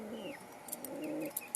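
Soft coos from caged pigeons rise and fall close by, with a few faint bird chirps and light clicks in a quiet setting.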